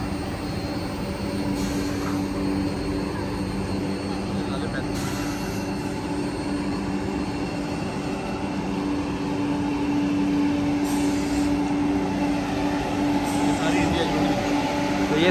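The Indian-built Vande Bharat Express running on the Amb Andaura railway track in India, a loud continuous rumble and steady whine that holds throughout without a break.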